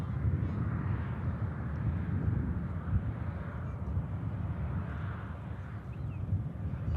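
An Icelandair Boeing 757 taxiing at idle at Manchester Airport, a steady low engine rumble and broadband roar heard from a distance, with some wind noise and no talking.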